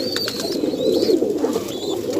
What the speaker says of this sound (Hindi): ये देखिए जी कबूतर, ये देखिए कबूतर, ये कुछ अंडों पे बैठे हुए हैं जी,